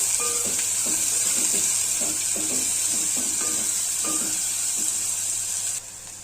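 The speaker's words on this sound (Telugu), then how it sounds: "ఇప్పుడు ఆయిల్ హీట్ ఎక్కాక ఆనియన్ అండ్ పచ్చిమిర్చి వేసుకుంటున్నాను." Chopped onion and green chilies frying in hot oil, a loud continuous sizzle with steady crackle and scattered soft stirring taps, no voices.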